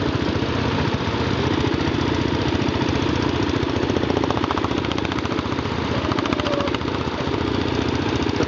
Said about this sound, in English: I'll put this one down and turn this tractor off.